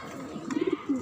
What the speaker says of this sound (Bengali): আর এদিকে হচ্ছে আরো কবুতর আছে।